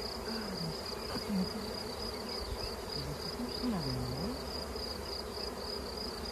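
Honeybees buzz in a steady, dense swarm drone close by while being smoked, the hum continuous throughout with a few louder passes of individual bees.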